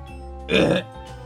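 A single loud, guttural burp after eating an extremely hot pepper, lasting under half a second, rising out of a quiet background and stopping abruptly.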